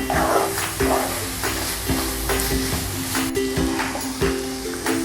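Carrot halwa is stirred in a pan, a continuous loud scraping and sizzling with a regular rhythm of spoon strokes and a low steady hum underneath, with no speech.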